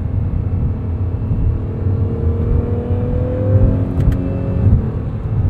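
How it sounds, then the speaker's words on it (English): A 2022 Acura NSX Type S hybrid accelerating, its engine note climbing steadily under boost into a loud, close, smooth rising drone over a deep rumble, with no talking. "You get this immediate torque from the hybrid powertrain, followed by the buildup of boost and the sound"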